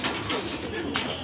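Pigeons at a Bengali pigeon market, including talking and silver breeds, cooing in low steady murmurs close by, with a noisy crowd and a voice in the background.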